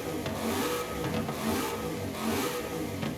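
A 5.2 V8 car engine revs repeatedly in the Forza racing game, a mid-pitched engine surging up and down in a steady rhythm, fairly quiet with no talk over it.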